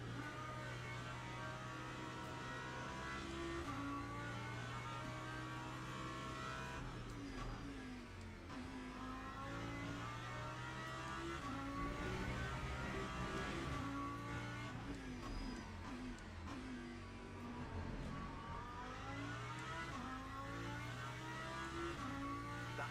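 Race car engine in the Le Mans Ultimate sim racing game droning steadily and loudly through a long stretch, pitch rising and falling with shifts, over a constant low hum.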